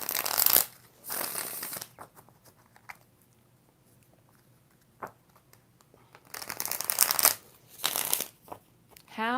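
Tarot cards are shuffled in several quick riffling bursts with quiet gaps between, close by, along with a few soft taps and handling sounds.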